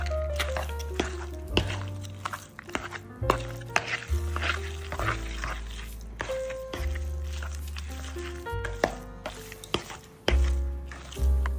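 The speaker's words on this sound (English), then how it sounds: "Then you can just take your fork and mix it all up." A fork stirs and mashes a soft sweet potato filling in a bowl, giving steady squishy scraping and occasional clinks, close and moderately quiet, with music playing underneath.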